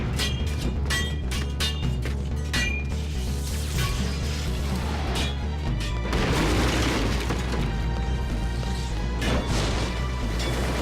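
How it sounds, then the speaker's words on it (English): Continuous heavy booms and crashing impacts of a chaotic battle in the video game Final Fantasy VIII, dense and loud throughout with no speech. "There's explosions, there's people fighting."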